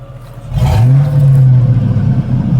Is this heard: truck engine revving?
yes